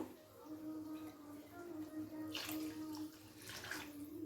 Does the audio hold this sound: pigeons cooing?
no